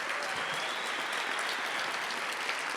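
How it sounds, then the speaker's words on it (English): Steady, dense applause from a lecture audience honoring the MC at a memorial lecture, sustained and even throughout with no voices rising above it. "can we get a round of applause for our incredible MC"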